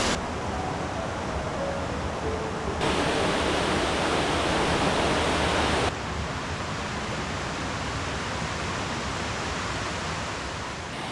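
Ricketts Falls in Ricketts Glen State Park, a loud continuous roar of falling water. Its intensity shifts in a few abrupt steps, swelling in the middle before settling back, with no voices.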